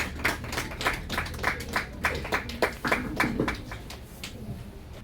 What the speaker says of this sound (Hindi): तालियों के साथ में उनका स्वागत करें।